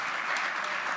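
Applause for guitarist Luis Salinas at a jazz masterclass: a dense, loud burst of audience clapping, steady and close throughout the short stretch.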